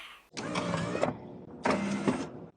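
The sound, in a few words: car pop-up headlights raising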